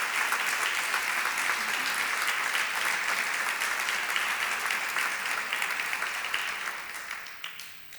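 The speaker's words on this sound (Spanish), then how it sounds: "dele un aplauso al Señor." A church congregation applauds for a sustained stretch, a steady dense wash of many hands clapping at close range that fades out toward the end.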